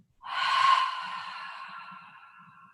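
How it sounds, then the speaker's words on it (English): A strong breath drawn in and released as a loud, airy exhale during a slow vinyasa yoga practice, a single long breath that swells and then fades gradually. "Strong breath in. Loud exhale."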